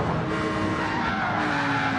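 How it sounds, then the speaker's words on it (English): Tires squeal continuously as cars spin donuts in Gran Turismo 7, a loud sustained screech with engine roar underneath, steady for the whole moment. "so I can hear a lot of squealing"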